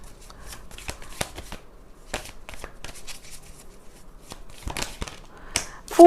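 Tarot cards shuffled by hand close up, a series of crisp riffling bursts and light slapping taps at an irregular pace, fairly quiet and without speech.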